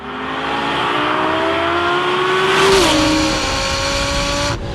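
Twin-turbo Lamborghini accelerating hard, its loud close engine note climbing steadily through the gears, with a brief shift dip midway before the revs build again, alone without talk.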